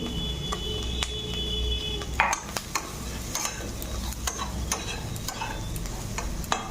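Chicken for chilli chicken fries in a pan with turmeric and salt, giving a steady close sizzle broken by sharp clicks and taps of a utensil, with no talking.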